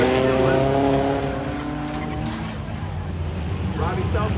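Demolition derby cars drive into the banking at Irwindale Speedway, engines droning steadily with tonal harmonics while an announcer talks over the racket.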